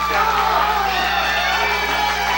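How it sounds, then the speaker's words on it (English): A wrestling crowd cheers at a Battlecade show, a dense and continuous roar of many voices from an excited audience. "what a great crowd we've got here at Battlecade. Everybody's fired up"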